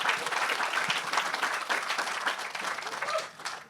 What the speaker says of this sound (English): a huge thank you and a round of applause for all of you